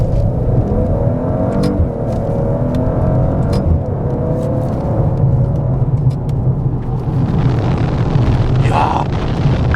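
A 2022 Maserati Ghibli Modena, rear-wheel drive, pulls hard in manual mode with paddle-shifted gears, its loud engine roar and exhaust droning steadily up close throughout, rising in intensity toward the end.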